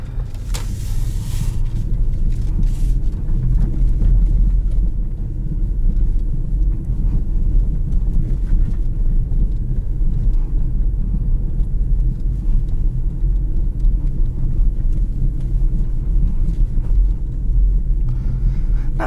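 A 2021 Ford Mustang Mach E rolls over bumpy ground, heard from inside as a constant loud low rumble of road and suspension noise with muffled thumps, no engine note.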